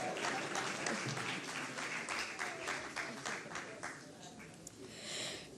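Audience applause fills a hall at the GJA 77th anniversary symposium and lecture: dense, steady clapping from a crowd, close and continuous, with a slight swell near the end.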